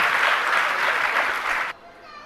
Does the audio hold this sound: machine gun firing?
no